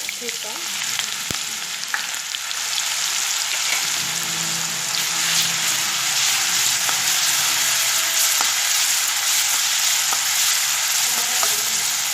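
Cumin seeds and a crushed green chili and garlic paste hit hot oil in a pan, giving a loud, steady, bright sizzle and crackle that carries on unbroken with no voices.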